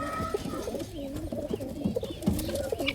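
Pigeons coo softly in a farm aviary, repeated low burbling calls over a steady hum of background noise.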